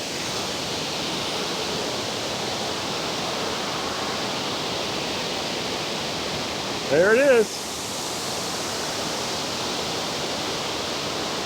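Constant roar of Middle Creek Falls heard from beside it, broad and loud, with a short spoken exclamation partway through.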